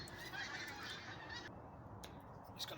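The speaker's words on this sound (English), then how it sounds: "Geese up there this morning." A flock of geese honks overhead on a farm in the early morning, the calls faint and distant against a steady background hiss.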